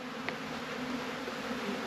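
Honey bees buzz in a dense, steady drone at an open hive during a brood chamber inspection, heard up close and continuous without any talking.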